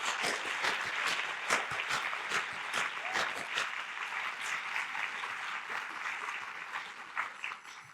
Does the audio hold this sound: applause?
yes